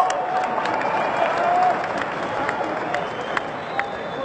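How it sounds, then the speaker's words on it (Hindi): A crowd at a political rally claps steadily and loudly, a dense continuous wash of applause with a few sharper claps standing out, heard without speech over it. "ठोको ठोको ताली ठोको"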